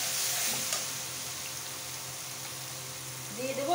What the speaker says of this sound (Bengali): তেলটা গরম হয়ে গেছে, এগুলো একটু ভেজে নেব।